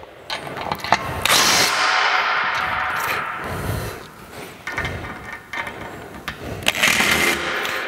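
Clamps on a TracRac TracONE truck rack are tightened to hold the saddle, close, irregular mechanical ratcheting and clicking bursts with short pauses between, fairly loud and with no talking.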